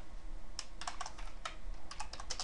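Soft, quick keystrokes on a computer keyboard, irregular clusters of clicks at low level over faint background hiss, with no talking.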